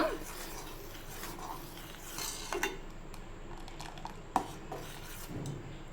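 A spoon stirs fruit custard milk in a pan over low heat, giving soft, steady scraping and rubbing with a few light metallic clinks against the pan.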